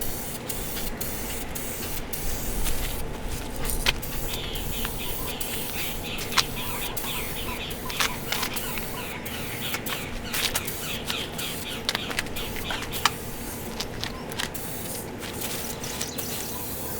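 A spray can of clear coat hisses steadily and up close for a long stretch while painting a car fender, broken by short pauses and occasional clicks, with no talking.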